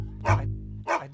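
A dog barks twice, two short, sharp woofs separated by a brief pause, fairly close and clear.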